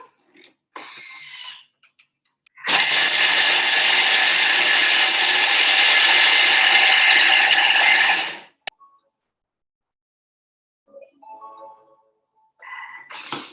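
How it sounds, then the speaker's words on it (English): 100 grams of cheese being chopped finer in a loud, steady motorized whir lasting about five seconds, framed by brief clatters and quiet handling sounds. "So I've got 100 grams of cheese, and I'm just going to chop that up a bit finer."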